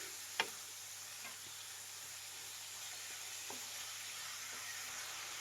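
Capsicum palya fries in a pan with a soft, steady sizzle, while a utensil scrapes and stirs in a few faint, spaced clicks.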